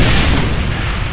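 A loud, deep boom with a rumbling roar that fades slowly, an explosion from a trap heard up close in the video game Brutal Doom, a Doom II mod.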